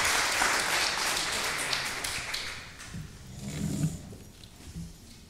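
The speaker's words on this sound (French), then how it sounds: "nous pouvons à nouveau applaudir" An audience at an education research conference applauds a doctoral student at a poster prize session. The clapping starts full and lively, then gradually thins and fades, with a faint murmur of voices underneath.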